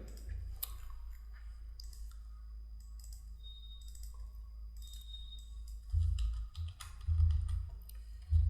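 Sparse, faint clicks and taps of a computer keyboard in a quiet room, with low rumbling handling noise rising in bursts near the end.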